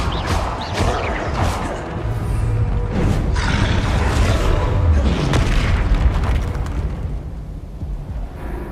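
A fire spell cast in the Hogwarts Legacy video game: a loud run of booming, whooshing magical blasts with crackling bursts, thick and continuous before fading toward the end.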